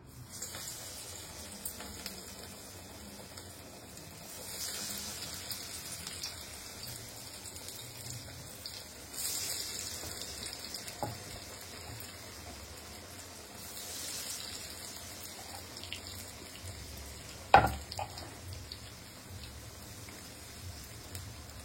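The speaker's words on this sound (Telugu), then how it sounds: "సో వేడి ఆయిల్లో కొంచెం ఇది వేస్తూ ఉండాలి." Pesara garelu, moong dal fritters, frying in very hot oil, giving a steady hiss and crackle that swells and fades in waves, with a sharp clatter near the end and no talk.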